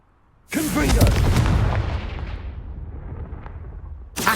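A loud booming blast from the Confringo fire spell in Hogwarts Legacy erupts suddenly and rolls into a long fading rumble, with a second burst starting right at the end.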